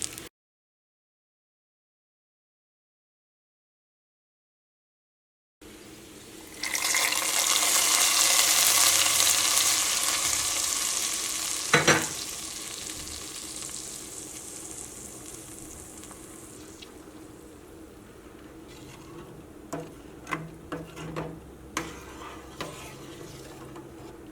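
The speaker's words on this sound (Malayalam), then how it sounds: "ഇതിലേക്ക് നെയ്യ് ചേർക്കാം. ഇതിലേക്ക് തേങ്ങക്കൊത്ത് ചേർക്കാം." Coconut pieces frying in ghee in a hot pan while making moong dal payasam with jaggery and cow's milk, a bright close sizzle after a silent start, fading into softer crackles with a few stirring clicks and taps.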